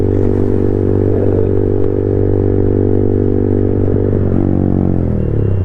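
A Yamaha MT 15 motorcycle with a loud aftermarket exhaust silencer holds a heavy, throbbing tone, up close and loud, that dips and shifts near the end as the revs change.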